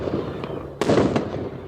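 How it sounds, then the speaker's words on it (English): Fireworks bursting outdoors: a sharp crack, then a loud boom with a short rumbling tail, heard alone without talk. "And I'm talking, of course, about the sound of fireworks."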